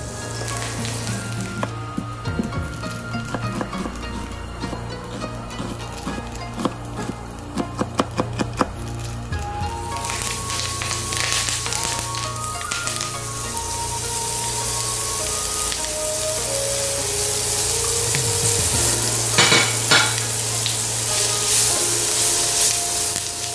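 Steady oil sizzle of a handful of curry leaves frying in a pan, crackling and spitting throughout, growing louder and denser toward the end with occasional sharp pops.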